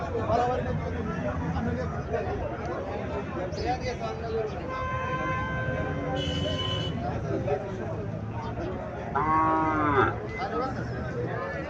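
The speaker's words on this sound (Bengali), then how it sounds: "এখানে আরো একটা হরিয়ানা জাতের গাভী দেখা যাচ্ছে" A Haryana breed dairy cow moos in a cattle setting in Cumilla, with a few low calls rising over people talking nearby throughout.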